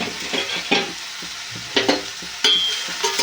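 Ridge gourd pieces frying with cumin and dried red chilies, a close crackling sizzle with several spatula scrapes and stirs against the pan, no talking.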